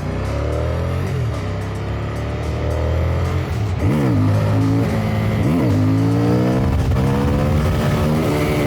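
CFMOTO 800NK motorcycle accelerating hard on the road, engine revving up through rising and falling pitch sweeps with gear changes, loud and close over wind noise.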